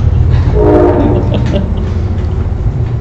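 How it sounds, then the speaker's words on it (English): A train passes close by the Center for Documentary Studies with a loud, sustained low rumble. A brief horn-like tone sounds early, and the roar carries on heavily to the end. "Right now we have a train coming through Center for Documentary Studies. You may hear that come rumbling through."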